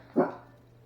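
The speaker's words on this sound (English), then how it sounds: "And there goes the dog." A dog gives a single short, close bark that fades quickly into quiet room tone.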